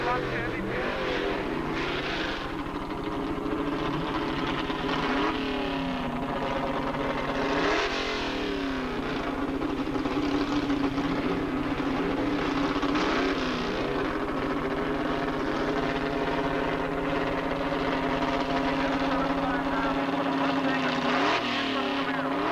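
Small block Ford and small block Chevy drag racing cars roar down the quarter mile at Edinburg International Dragway in 1987, engines revving and droning under continuous announcer commentary.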